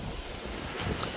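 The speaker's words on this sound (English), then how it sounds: "it's a little bit windy up here" Wind buffets the microphone on a hilltop villa terrace, a brief, loud, broadband gusting rush with no talk.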